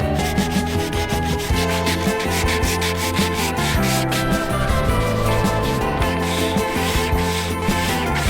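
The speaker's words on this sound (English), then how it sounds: "I'm going to sand, prepare and then paint this beam on this fine day" Sandpaper from 3M is rubbed by hand along a beam of an ocean-going catamaran, a continuous close, loud scratchy rasp of rapid back-and-forth strokes.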